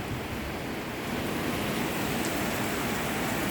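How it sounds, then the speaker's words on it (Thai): Heavy rain pouring down hard in Sakon Nakhon, a dense, steady roar of falling water that fills the whole moment without pause or voices. "ฝนตกหนักตกแรงมาก"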